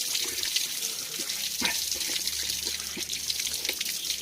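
Water runs steadily from an old village tap at a communal water tank in a hill village of Uttarakhand, a continuous close splashing stream with no talk.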